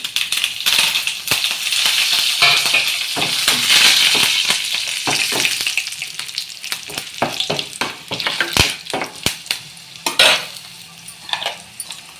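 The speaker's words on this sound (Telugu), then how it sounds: "దీంట్లోనే కరివేపాకు వేస్తున్నాం" Curry leaves crackle and sizzle in hot oil in a pan while gongura chutney is cooked, bright spitting frying noise with stirring clinks and spoon scrapes against the pot, no talking.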